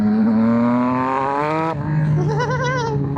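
A 2024 Yamaha XSR900 motorcycle with a flashed ECU, accelerating hard at wide open throttle: a loud, close engine note climbs steadily in pitch, drops at a gear change, then pulls upward again through the next gear.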